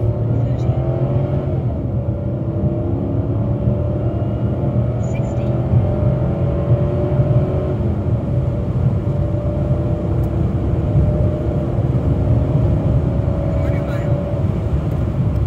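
A Chrysler 300C with a 5.7L HEMI V8 running on E85 makes a quarter-mile run, its engine holding a loud, steady low drone with rising tones throughout, close and unbroken.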